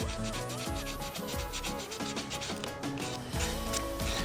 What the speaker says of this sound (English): clean that last little bit up with my finger and a piece of sandpaper